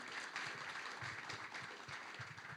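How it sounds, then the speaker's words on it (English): Quiet, even applause from a symposium panel audience for the event organizers, continuing steadily for a few seconds at a distance without speech. "can we have a round of applause for the organizers, please?"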